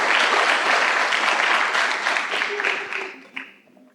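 Church congregation applauding, a loud dense wash of clapping that thins and fades over the last second.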